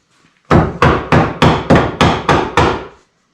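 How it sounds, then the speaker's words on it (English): A hammer pounds a socket onto an exhaust manifold bolt on a 7.3 Powerstroke diesel engine with eight evenly spaced, sharp metallic blows in quick succession. The strikes are loud and close, and no voices are heard. "Might have to pound the socket in."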